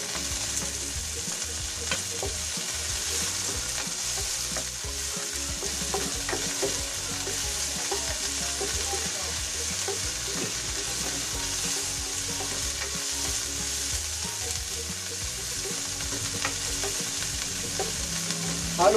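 Onions sizzle and fry alongside Lucban longganisa in a pan, a steady crackling hiss with frequent scraping stir strokes throughout, close and continuous with no voices.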